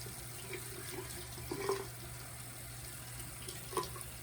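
A tap runs water steadily into a sink while a makeup sponge is rinsed under it, a soft continuous splash with faint squelches, heard quietly and close with no talk.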